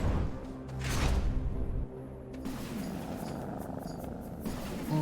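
Purring chariots in the video game Hades make a low continuous rumbling drone with a sweeping whoosh partway through, steady and fairly loud, with no talking.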